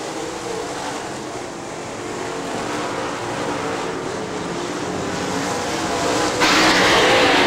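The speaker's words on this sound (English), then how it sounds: "Side by side racing in the back part of the field as your leader, Jeff Kohn, closes in on those slower cars now in turn three." Late model stock cars racing at Crystal Motor Speedway, several engines roaring together in a steady, loud drone that swells slightly as the pack passes, with no voices.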